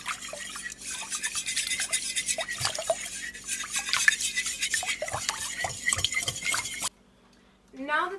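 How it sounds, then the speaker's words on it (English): Cake ingredients being whisked together in a bowl, giving a steady run of quick scraping, clinking strokes for several seconds before stopping abruptly. "So with your whisk, just whisk these ingredients together."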